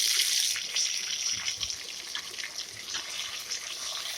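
Chopped tomatoes fry in hot oil with ginger in a pan, giving a steady, close sizzle of bright crackling hiss that holds evenly throughout, with no voices.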